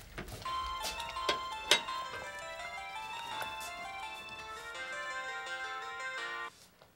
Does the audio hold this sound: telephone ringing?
yes